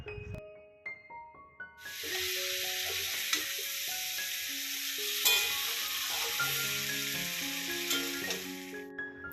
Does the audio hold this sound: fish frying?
yes